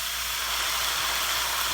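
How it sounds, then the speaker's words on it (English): Steady loud hiss of a sauce of soy sauce, mirin and sesame oil steaming in a hot pan with bok choy, a continuous bright sizzle heard alone. "And then that's going to really steam."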